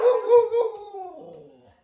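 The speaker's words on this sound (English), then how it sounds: "That's the dog." A dog howls and whimpers in a drawn-out, wavering cry that fades over about two seconds, fairly close and with no talk over it.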